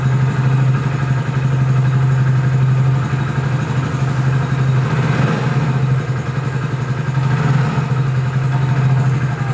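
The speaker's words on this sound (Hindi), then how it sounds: "और गाड़ी स्टार्ट हो गई है हमारी।" A Hero Splendor Plus BS6 motorcycle engine runs steadily after starting, with a low, even idle hum and a light mechanical clatter, close and loud throughout with no talk.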